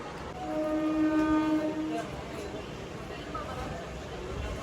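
A MEMU passenger train pulls out of Bhimavaram Junction with a loud sustained horn for the first two seconds, then steady rumbling rail noise as the coaches roll on; a voice talks over it.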